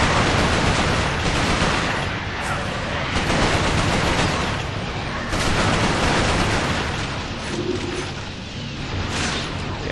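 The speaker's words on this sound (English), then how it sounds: "I'm gonna use my nades to effectively try and destroy as many of these things as I can" Grenades exploding during a firefight in Resistance: Fall of Man, booming blasts buried in dense, continuous loud gunfire and battle noise throughout.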